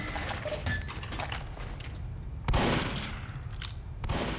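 A minigun in Team Fortress 2 fires in a rapid, continuous rattling burst, loud and close, with a couple of heavier bursts cutting in partway through.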